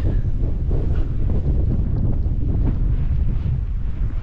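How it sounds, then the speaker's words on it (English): Wind blows hard across a wild campsite with grass and a pitched lightweight tent, a loud, steady rumbling roar with heavy buffeting against the microphone and no voices. "It's picked up the wind again."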